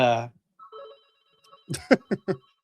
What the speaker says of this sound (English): sorry, I'm at my in-laws' house and the phone rings